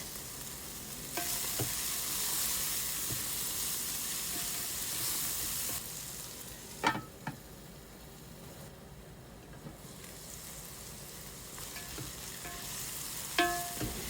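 Carrots and green beans sauté in a pan for pancit canton guisado, giving a loud, steady sizzle with a few sharp utensil clinks against the pan.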